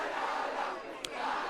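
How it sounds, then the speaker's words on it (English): Spectators at a St John's College schoolboy rugby match against Noordheuwel during an Easter festival keep up a steady, continuous roar of cheering and shouting from the stands, with one short sharp burst near the end. "a very enthused St. John's crowd"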